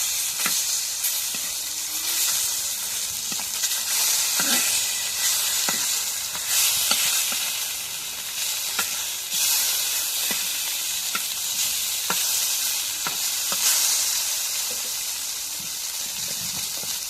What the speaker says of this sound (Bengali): মাছগুলো ভাজা হয়ে গেছে, এখন নামায় নিই।